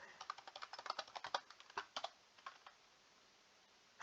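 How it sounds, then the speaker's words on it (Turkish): Rapid typing on a computer keyboard gives a close, sharp run of clicks for about two and a half seconds, then thins to a few taps before going quiet. "Hızlı yazmaya çalışıyorum bitsin diye."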